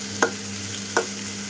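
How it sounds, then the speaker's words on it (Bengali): Vegetables are stirred and mixed with cumin powder, coriander powder and salt in a pan, two brief scraping strokes standing out over a soft steady sizzle and low hum, with no talk. "এখন ভালোভাবে মিক্সড করে নেব।"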